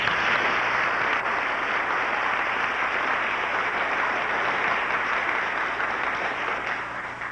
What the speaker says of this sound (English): Perhaps another round of applause, please.